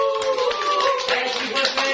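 A group claps for a birthday, with brisk overlapping hand claps that sound fairly close and fill the whole moment. Tonal voices or music run underneath the clapping.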